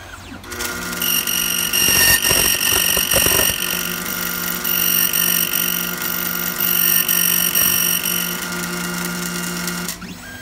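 Key cutting machine grinding a regular non-chip ignition key for a Ford F-250, a loud steady high-pitched whine with brief rough bursts of cutting noise, running continuously for about ten seconds.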